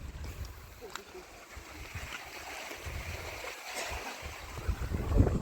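Water runs steadily through a village irrigation canal fed from a small dam, a soft continuous rushing wash near the listener with a few louder surges and a low wind rumble, while people talk over it.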